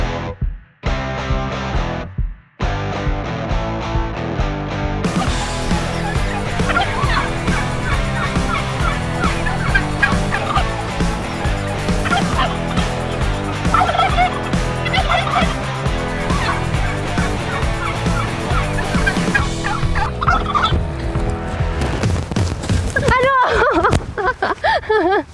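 Turkeys gobbling loudly and continuously at close range, overlapping calls filling the air with people talking in the background.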